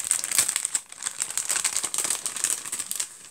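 Paper mail package full of cutouts being handled and opened, close crinkling and rustling of paper in quick uneven bursts, no voices.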